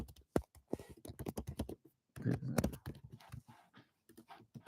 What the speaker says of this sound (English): I'm actually just typing something